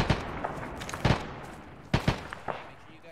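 Artillery high-explosive shells slam down in the military video game Arma: about five sharp, booming impacts arrive in loose clusters, with two close together near the end, over a low, steady background rumble.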